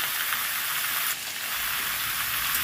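Ivy gourd (kundri) and potato pieces frying dry in a pan without water, giving a steady close hissing sizzle with a brief dip in level midway.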